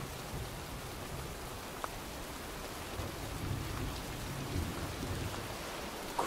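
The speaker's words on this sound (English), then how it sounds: "looks like a storm's coming" A storm in the video game Heavy Rain, with steady heavy rain hissing on surfaces and low distant thunder rolling underneath, plus a few faint clicks, continuous and fairly loud with no voices.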